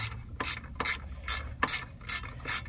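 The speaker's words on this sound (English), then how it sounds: "we're gonna take this bolt off too, so there's three more on this side as well" A wrench ratchets bolts loose on the deck of a Troy-Bilt riding mower, with short bursts of rapid clicking repeated about every half second, close and fairly clear.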